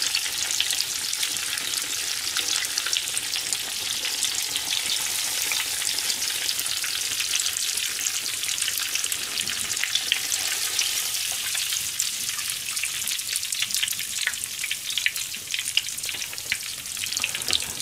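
Steady close sizzle and crackle of a deep-fried spread in hot oil: chicken, wonton, sillago fish, potato, lotus root, eggplant, asparagus-corn kakiage fritters and ganmodoki tofu patties, a dense continuous hiss without talk.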